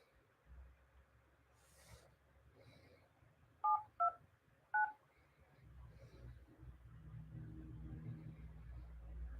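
Touch-tone phone keypad beeps during a phone call, three short clear tones in quick succession against a quiet background with low rumble.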